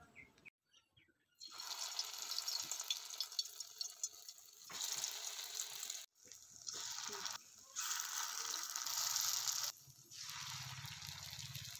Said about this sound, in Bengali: এবার আমি বড়াগুলোকে ভেজে নেব।